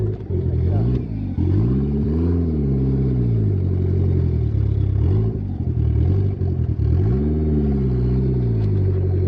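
A Mitsubishi Eclipse 2G engine drones low and steady while driving, rising and falling in pitch with gentle throttle changes amid road rumble and cabin noise.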